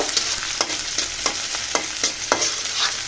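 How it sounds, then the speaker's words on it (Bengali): Onion and garlic fry in fish oil with a steady broadband sizzle, broken by sharp scraping strokes of a spatula stirring the pan about once or twice a second, close and loud with no talking. "পেঁয়াজটা দিয়ে দিলাম রসুনটাকে দেখতে পারতেছেন হালকা করে ভেজে পেঁয়াজটাও দিয়ে দিলাম দিয়ে পেঁয়াজটাকেও আমি ভেজে নিব"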